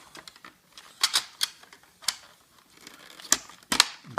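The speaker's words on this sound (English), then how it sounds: "It clicks into position." A Coinco coin mechanism part from a vending machine clicks into place during repair, giving several sharp, close plastic clicks and snaps scattered among quieter handling noises.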